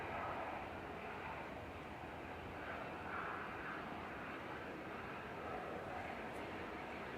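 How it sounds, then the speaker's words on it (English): An EasyJet airliner lands on runway 23 left at Manchester Airport, heard as a steady, distant broadband jet roar that holds evenly throughout with no clear peaks. "Landing up on 23 left now is EasyJet's heading off to Amsterdam."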